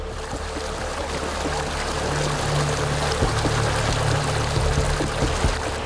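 Canoes paddle down the Drôme river during an adventure raid, a steady wash of flowing water with splashes and low rumbling knocks, continuous and fairly loud without any voices.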